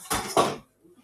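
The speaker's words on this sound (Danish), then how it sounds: "Og så finder vi en gryde frem." Cooking pots clank as a pot is pulled out in a home kitchen, two loud metallic crashes in quick succession, then fading rattles and quiet room noise.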